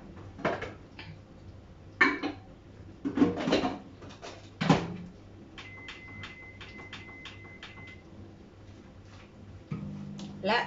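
A kitchen oven door opening and closing, heard as a few sharp clunks and knocks followed by a soft ticking timer, close by in a quiet room.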